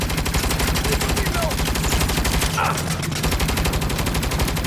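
Rapid, continuous turret gunfire from a Saints Row video game, a steady dense rattle of shots filling the whole stretch at close, loud level, with a brief dip in the low end midway.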